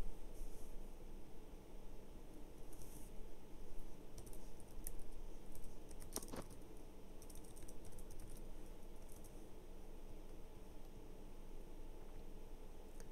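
Computer keyboard typing: faint, steady patter of key clicks under a constant hiss of background noise, with a few sharper clicks and no talking.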